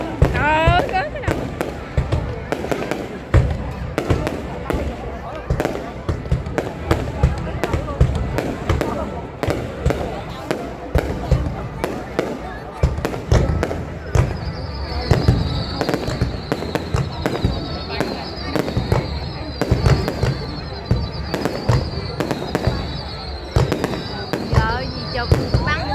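Fireworks display at the opening of a cultural and tourism festival in Bạc Liêu, with dense rapid bursts and crackles throughout and whistling rockets later, while a crowd talks and shouts beneath.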